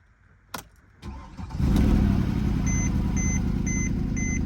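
A 6.0 diesel Ford Excursion from a Copart auction cranks briefly, then catches and settles into a steady, loud idle, with a chime beeping repeatedly from the dashboard.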